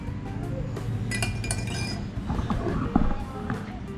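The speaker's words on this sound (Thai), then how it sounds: "โอเคตักน้ำแข็งประมาณนี้" Ice cubes clink and rattle against a small glass as they are scooped in for a lemon drink, several sharp chinks over a low background rumble.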